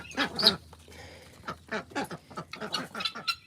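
Several ducks quack in quick, irregular bursts close by, with a few louder calls standing out among the chatter.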